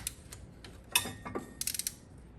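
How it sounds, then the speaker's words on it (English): Torque wrench set around 20 foot-pounds tightening bolts on a Tracker 500 or Arctic Cat Prowler side-by-side, making a few quick ratcheting clicks in short bursts, close but fairly quiet. "Okay, so I'm still using the torque wrench."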